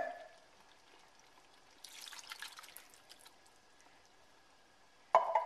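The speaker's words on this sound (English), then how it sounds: "I'm going to add the diced tomatoes. And no, I did not drain them." Undrained canned diced tomatoes slide and splash into a soup pot, a short burst of wet pouring and dripping in a quiet kitchen, followed by a sharp clatter at the end.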